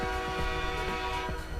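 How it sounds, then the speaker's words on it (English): A C44-9 locomotive horn in the Rails Unlimited Classic train game sounds a sustained, steady salute over continuous rumbling rail noise. "let's horn salute this"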